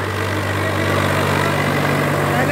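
A Swaraj 744 FE tractor with no load on it, hitched to a 14-disc harrow, idles with a steady, loud low engine hum and vibration that runs unbroken throughout, with no talking.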